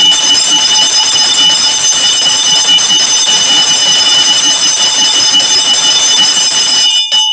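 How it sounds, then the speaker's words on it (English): A loud electric bell rings continuously for about seven seconds with a steady metallic clang, then cuts off abruptly at the end. "I'm gonna ring the bell for that."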